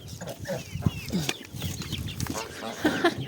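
Chickens and a rooster cluck and mutter continuously nearby in a busy farmyard, with scattered sharper squawks over a low background of rustling.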